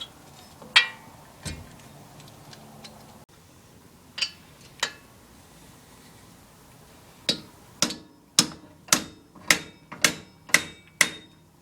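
Hammer blows on the hub assembly bolts of a Jeep Wrangler axle, driving the axle out. A few scattered metallic strikes come first, then a steady run of about eight sharp, loud, evenly spaced hits close by.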